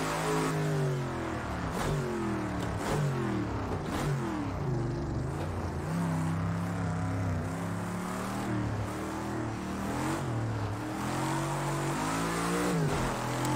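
Classic Lotus 40 vintage race car in Project Cars 2 on the Monza combined circuit, its engine revving hard and shifting through gears continuously at close range, rising and falling in pitch with no talk.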